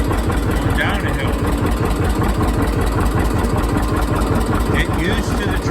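A tractor engine fitted with a hand clutch idles steadily up close, its low mechanical rumble continuous and even throughout.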